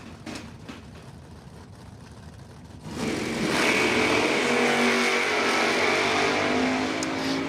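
A Ford Mustang and a Chevrolet Camaro launch side by side down a drag strip at a bracket race. Quieter idling and staging noise gives way to a sudden, sustained roar of hard acceleration that stays loud to the end.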